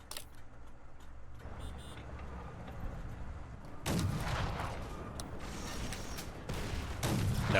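Tank fire in Fallout: The Frontier: a quieter rumbling stretch, then a heavy blast erupting at once into loud crackling gunfire and mechanical clatter, with another burst near the end.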